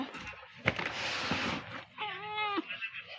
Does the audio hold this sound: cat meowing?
yes